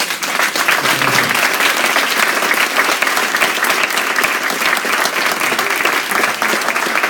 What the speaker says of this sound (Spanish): yo creo que se merece un fuerte aplauso,